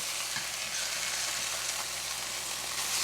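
Chicken sizzles steadily in a pan for a creamy lemon and white wine chicken dish, a dense, loud, continuous frying hiss with faint stirring crackles and no talking.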